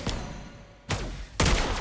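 Lesley's gunfire in the mobile game Mobile Legends comes as two sharp, loud reports about half a second apart, each leaving a ringing tail, over a low game background.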